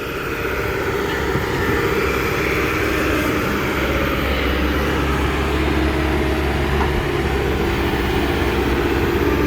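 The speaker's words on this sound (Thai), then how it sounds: "รถขุดคันนี้ใช้เครื่องยนต์ฮิโน่ครับ" A Kobelco SK200 excavator's four-cylinder Hino common-rail diesel engine drones steadily and loudly throughout with a deep low rumble and broad mechanical noise, unbroken and close by.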